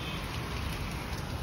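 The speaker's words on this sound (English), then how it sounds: "Hey, it's raining, man." Rain falling during a storm in the Philippines, a dense, continuous hiss of drops on surfaces, loud and close with no break.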